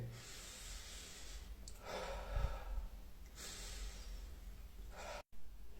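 A patient at a doctor's examination breathes in through the nose and out through the mouth, with soft, quiet, hissing breaths repeating at a slow, steady pace.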